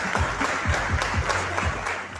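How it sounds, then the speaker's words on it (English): Audience applauds panelists at a furniture-industry discussion event, brisk, moderately loud clapping with distinct individual claps, lasting a couple of seconds, with no talking. "Please, round of applause for panelists first."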